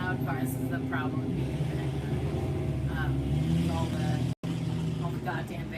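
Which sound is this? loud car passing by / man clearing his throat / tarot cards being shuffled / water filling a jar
loud car passing by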